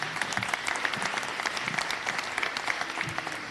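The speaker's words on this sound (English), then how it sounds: "let's give him a round of applause" A crowd at a school board meeting claps steadily, dense and fairly loud, a sustained round of applause.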